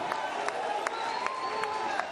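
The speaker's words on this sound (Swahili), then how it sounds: "Pigia makofi, piga makofi." Crowd clapping at a UDA comrades political rally in Nakura, a steady dense patter of many hands with a few sharper claps standing out, a speaker's voice carrying over it.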